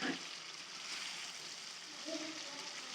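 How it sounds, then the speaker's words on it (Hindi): Fried chicken pieces go into a pan of roasted masala for a desi-style chicken curry, giving a soft, continuous sizzle and frying hiss, fairly quiet and steady throughout. "अब यहाँ पे डाल देते हैं फ्राई किए हुए चिकन।"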